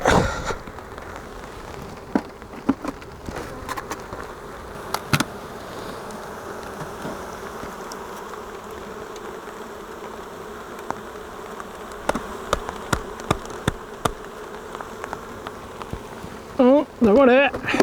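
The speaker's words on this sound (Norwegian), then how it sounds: "Nå har vi fått opp i bier til avleggeren." Honey bees buzz steadily and loudly at close range as they are shaken from a hive box into a new split hive, with scattered knocks and handling noises throughout.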